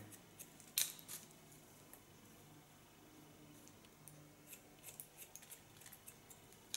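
Scissors point cutting hair up close, a series of faint, crisp snips, one sharper at the start, then lighter irregular clicks over a quiet room.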